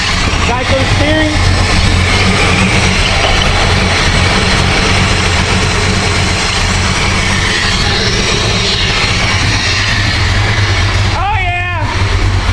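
Supercharged Ford Mustang Foxbody engine, a ProCharger setup, running with a loud, dense low rumble that holds steady throughout, and voices briefly cut in over it near the end.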